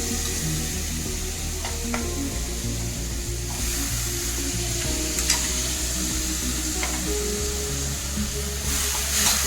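Cauliflower, mutton and bottle gourd pieces frying in oil in a pan make a continuous close sizzle with a few light clinks of a utensil, steady in loudness and free of talk.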